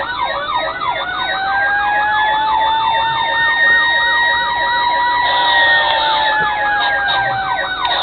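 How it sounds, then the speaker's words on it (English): Toy-scale siren from a custom 1:32 Code 3 diecast FDNY Seagrave Squad 61 fire truck model wails continuously in rapid electronic yelp-style sweeps that shift to a slower pattern near the end, bright and close with no talking. "you can turn the lights off and still have the siren if you want."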